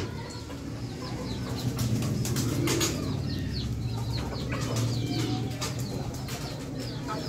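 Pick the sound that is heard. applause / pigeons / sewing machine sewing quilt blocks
pigeons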